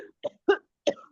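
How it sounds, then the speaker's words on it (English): Three short, separate coughs come from a person in a breathing practice session, close and distinct with brief silences between them. "coughing आ रही है ना आपको?"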